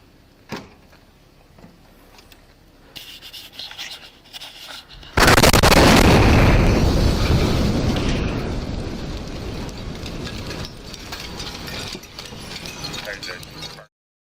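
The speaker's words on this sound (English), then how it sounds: "a nearby RV which detonated in a massive fireball" An RV detonates in a massive fireball, a sudden loud broadband blast about five seconds in that rolls into a long, slowly fading roar of burning and debris, after quieter mechanical clicks and rustling.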